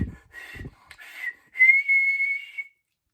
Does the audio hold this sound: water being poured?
no